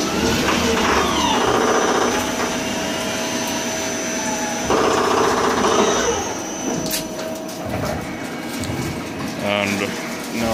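A lathe runs through a facing and chamfering pass, a loud steady machine drone with tonal whine and motor hum that shift as the cut changes, and a voice talks over it.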